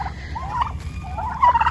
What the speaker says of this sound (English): Here is our turkey pen.